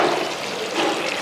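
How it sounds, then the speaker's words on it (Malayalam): Four spoons of water hit a hot pan while chicken kondattam is being cooked, producing a brief, loud, steady rushing hiss with no one talking. "ഈ 4 സ്പൂണ് വെള്ളം ഞാൻ അതിനകത്തോട്ട് ചേർക്കുകയാണ്"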